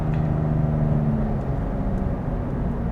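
A 2021 Toyota Yaris Ascent Sport engine with a CVT gearbox revs under hard acceleration, a steady droning hum heard from inside the cabin, fairly loud and continuous without talk.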